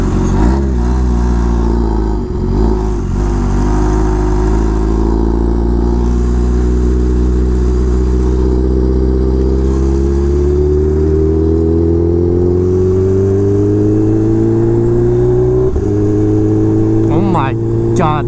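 A Kawasaki H2R supercharged motorcycle revs up loudly and close, its engine tone climbing steadily as the supercharger spools, with a brief dip and a fresh rise near the end.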